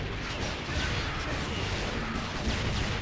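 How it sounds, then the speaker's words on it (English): Cluster shot weapon firing in the arcade game Metal Slug 3: a loud, dense, unbroken barrage of overlapping explosive bursts and crashes lasting the whole stretch. "Cluster shot."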